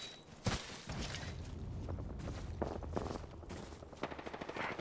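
Rapid automatic gunfire in the battle royale game Apex Legends: near, sustained bursts with sharp individual shots, ending in a quick stuttering volley.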